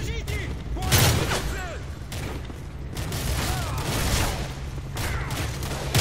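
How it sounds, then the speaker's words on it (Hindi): Grenade explosion and bursts of gunfire in the video game Call of Duty Modern Warfare, loud booming blasts with rattling shots repeating through a busy battlefield mix. "अबे ग्रेनेड, किसी ने ग्रेनेड फेंका है?"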